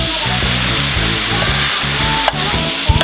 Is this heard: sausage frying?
yes